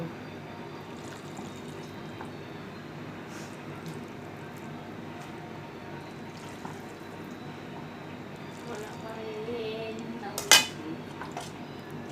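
Cooked spaghetti is served onto a plate with utensils, giving soft scraping and light clinks against steady background noise, then one sharp, louder clink near the end.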